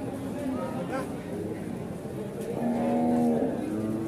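Cattle low at a livestock sale of Pegon feeder cattle, one drawn-out moo rising near the end over a bustling crowd and overlapping voices.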